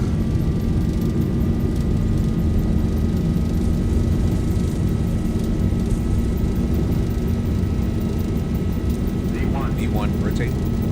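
A Boeing 737-800 in a flight simulator makes a steady, loud engine roar during its takeoff roll on the runway at Oslo Gardermoen, continuous and unbroken from start to finish.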